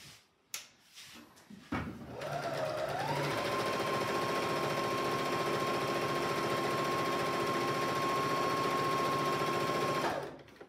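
A sewing machine stitching a quilt: a couple of clicks as it starts, then a steady, loud, continuous motor whir with rapid needle action running for about eight seconds before stopping.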